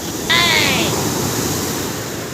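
Sea waves wash onto the shore at Paradip, a steady loud surf hiss with wind noise and a brief whistle-like tone near the start.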